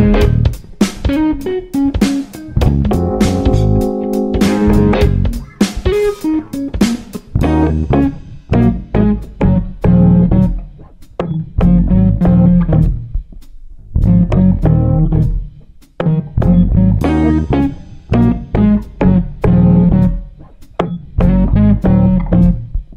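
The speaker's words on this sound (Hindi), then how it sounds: "और गाने भी आपको सुनाई दे रहे हैं सारे" Loud, busy music with pounding beats and melody blasts nonstop, as if played over speakers nearby, with brief dips between phrases.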